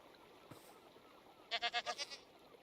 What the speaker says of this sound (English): Ooh, a goat.